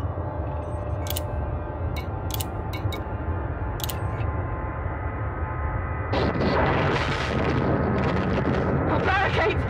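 Heavy weapons fire and explosions in the space game Elite Dangerous: a steady, loud rumbling wall of noise with a few sharp ticks early on, then a swell of rough blasts, with a voice speaking over it.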